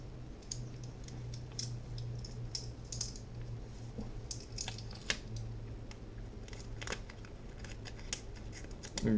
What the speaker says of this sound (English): Alright, let's cut another piece of tape.